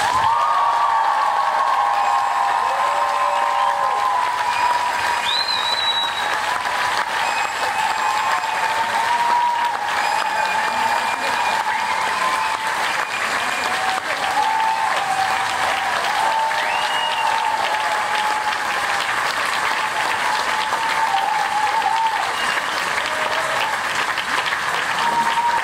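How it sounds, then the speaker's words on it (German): Audience at a science slam in the SO36 club in Berlin applauding steadily, dense sustained clapping that fills the room at an even level, with a few whistles and faint cheers scattered through it. "applaudiert, bitte, jetzt!"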